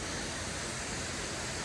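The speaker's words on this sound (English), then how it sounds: "And there's the waterfall." A waterfall near an old mill, a steady broadband rush of falling water with no breaks, moderately loud and continuous, with no voices.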